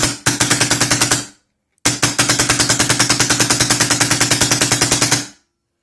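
A Centerflag Automag Hyperframe paintball marker fires in hyper mode, loud and close, in two rapid bursts of evenly spaced sharp pops, a short string followed by a longer one after a brief pause.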